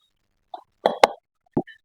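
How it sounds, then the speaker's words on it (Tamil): Thick rava cake batter drops into a cake mold in a few soft, wet plops, separated by short silences in a quiet kitchen. "இப்போ நம்ம இதை கேக் மோல்ட்ல ஊற்றிடலாம்"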